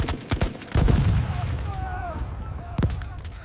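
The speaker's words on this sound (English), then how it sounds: "MG fire, hit the dirt!" Machine gun fire in a D-Day Omaha Beach battle scene: rapid bursts of loud automatic gunfire and cracking shots, with a heavy burst near the start and another toward the end, under shouted voices and battle noise.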